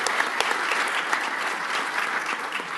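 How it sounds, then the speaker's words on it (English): Audience applause for the volunteers at a PAX 2016 convention panel on live streaming: a steady wash of many hands clapping together in a large hall, even and sustained throughout with no voices over it. "give a clap for the volunteers here at PAX"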